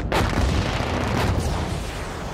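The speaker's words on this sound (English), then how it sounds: "When Mark detonates the explosives, it will send chunks of concrete hurtling at" Demolition explosives detonating on a concrete structure next to an adjacent building, heard as a sudden loud blast that becomes a sustained roaring rumble of collapsing debris, with no voices.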